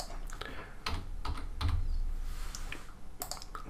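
Fingers type on a computer keyboard, entering player dimensions into a settings field, a quick irregular run of close, crisp key clicks with a few brief pauses and no talk.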